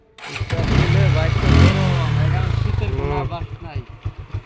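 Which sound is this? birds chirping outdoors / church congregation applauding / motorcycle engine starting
motorcycle engine starting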